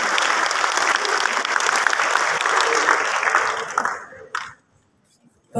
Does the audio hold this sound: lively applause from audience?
yes